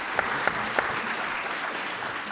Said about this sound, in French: Vous pouvez applaudir, bien sûr, l'intervention de Guillaume.